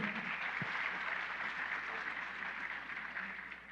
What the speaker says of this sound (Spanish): Te ganaste un aplauso